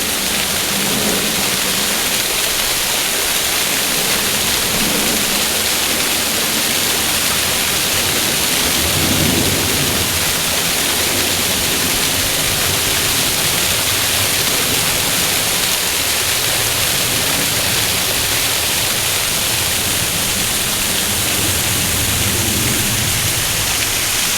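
A creek flows over slippery, mossy rocks in a steady, loud wash of rushing water that continues unbroken with no talk.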